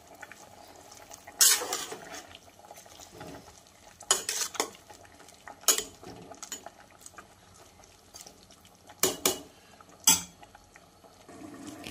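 A pot of mixed vegetable pulao made with Kolam rice is stirred, with scattered loud scraping and clanking of a spoon against the pot over a faint background simmer, in bursts with quiet gaps.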